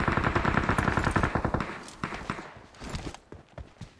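Rapid automatic gunfire from the video game PUBG Mobile rattles out in a loud, dense burst for over a second, then breaks into scattered, quieter shots and short volleys.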